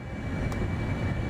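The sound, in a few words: F-35B jet short takeoff, video game MSFS 2024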